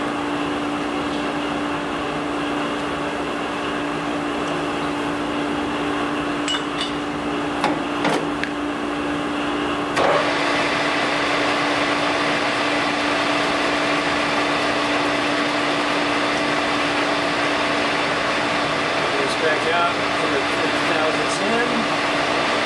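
Machining metal off the offset side of an MG connecting rod to reduce its weight: a steady whining machine drone with a constant tone, plus brief scraping bursts around the middle and later in the cut.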